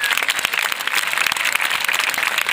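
A church audience claps loudly at the opening prayer ceremony of the 43rd Feast of Tabernacles. The applause is dense and steady, with many hands clapping together throughout.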